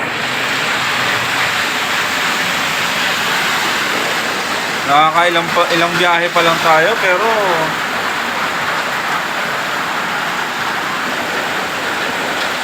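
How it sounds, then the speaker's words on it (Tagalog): Heavy rain pours in a dense, loud, continuous roar, with someone talking briefly partway through over the downpour. "lakas ng ulan, grabe."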